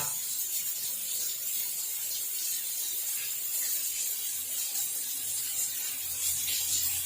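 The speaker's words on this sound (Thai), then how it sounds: "น้ำไหลแรงมากครับ" Water gushes hard and steadily from a PVC pipe shower head, a loud continuous spraying hiss with no break, close up and with no voices.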